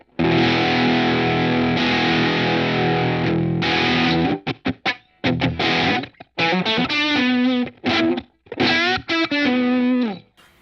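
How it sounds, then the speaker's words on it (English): Distorted electric guitar chords through a Line 6 POD HD500X ring out, sustained at first, then choppy stop-start strums and bends with a gritty overdriven tone. "Nice little kind of drivey sound here."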